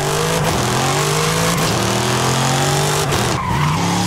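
An Audi in the racing game Forza Horizon 5 launches off the brake, its engine roaring loudly and steadily while the tires squeal and skid throughout, with no voices.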